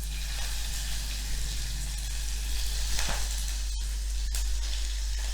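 Chopped green chilies and curry leaves crackle and sizzle in hot oil with asafoetida and turmeric, a steady close frying hiss through the whole stretch with a few sharper pops, for a raw mango kadhi.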